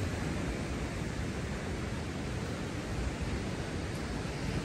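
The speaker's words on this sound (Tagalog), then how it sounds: "Kaso lang parang malakas yung ulan men." Heavy rain pours as a dense, even hiss, loud and unbroken for the whole stretch, with no voices.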